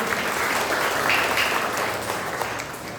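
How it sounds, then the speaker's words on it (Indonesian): A church congregation at a Pentecostal service breaks into sustained applause, a broad wash of many hands clapping at moderate distance with a faint voice beneath. "Berikan tepuk tangan yang mulia buat Tuhan kita hari ini."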